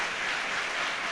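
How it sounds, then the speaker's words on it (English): A football crowd at a Stockport County vs Huddersfield Town pre-season friendly applauds as senior players leave the pitch, a brief, even wash of clapping from the stands. "Big round of applause here as many of our senior players go off the pitch."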